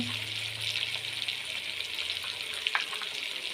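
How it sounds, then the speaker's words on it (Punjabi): Cumin seeds dropped into hot oil for a Punjabi tadka while cooking a mixed vegetable dish, giving a steady, close, bright sizzle with a few crackling pops. "ਹੁਣ ਆਪਣਾ ਤੜਕਾ ਗਿਆ ਜੀ ਹੁਣ ਇਹਦੇ ਵਿੱਚ ਪਾ ਦਵਾਂਗੇ ਆਪਾਂ ਜੀਰਾ"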